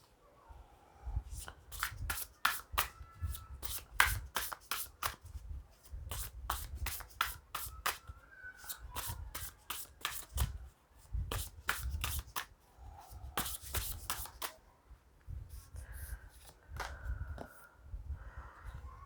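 Tarot cards shuffled by hand in repeated bursts of crisp riffling flutters, close and clear, separated by short pauses and soft handling rustles.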